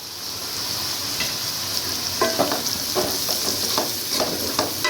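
Mixed fried rice ingredients frying and being stirred in a hot pan, a steady close sizzle with repeated scraping clicks from the spatula, no talking.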